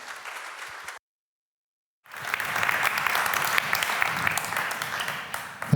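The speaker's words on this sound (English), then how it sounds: "Now for the real applause." Audience applause for a speaker taking the stage at a lightning talk, a burst of clapping, then a second of silence before a fuller, sustained wave of applause resumes and carries on steadily.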